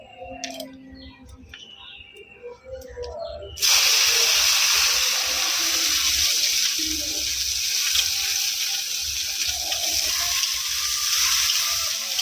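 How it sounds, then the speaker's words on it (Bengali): Chopped onions land in hot mustard oil in a wok already tempered with five-spice seeds for a fish curry, setting off a loud, steady broadband sizzle that starts abruptly partway through and holds to the end. "এবার পেঁয়াজগুলো দিয়ে দেবে"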